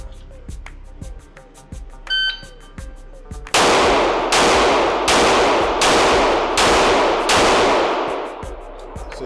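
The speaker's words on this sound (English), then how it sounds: "Don't forget, 6 shots, not 5." A pistol fires six rapid shots in a Bill Drill at a shooting range. A start beep comes first, then the loud, evenly spaced reports ring out one after another at close range.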